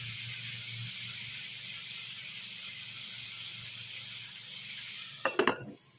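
Sliced bitter gourd fries in a pan with a steady soft sizzle; near the end an egg is added, bringing a brief burst of louder crackling and clatter before the sound fades.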